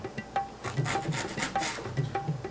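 A kitchen knife slices stacked ginger into thin strips on a board, with soft repeated chopping taps and scraping in a steady rhythm, close and clear, with no speech.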